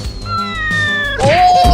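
A cat meows loudly and close by, two rising and falling calls back to back, heard alone in an outdoor comedy scene.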